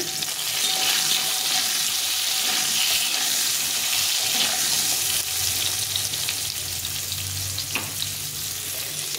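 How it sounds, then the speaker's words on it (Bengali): Potatoes fry in hilsa fish oil in a pan, giving a steady, close, continuous sizzle with faint stirring scrapes throughout, no voices. "আমি এখানে কিছুটা আলু দিয়েছি, আলুটা ভেজে নেব।"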